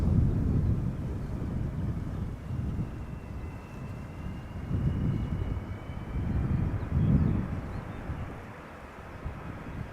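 A KLM Boeing 747 airliner landing at Schiphol makes a steady, distant jet roar with low rumbling swells, muffled by wind buffeting the microphone. No one speaks.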